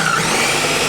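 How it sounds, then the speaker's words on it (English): A blender runs at high speed on a mixture with a splash of 1% milk, a loud, steady whirring hum filling the short moment with no pauses or voices. "Now let's blend."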